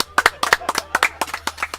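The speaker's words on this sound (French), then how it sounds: "On vous applaudit" Applause from a small audience for a French band at the close of an interview, a short burst of sharp, close handclaps with an uneven rhythm.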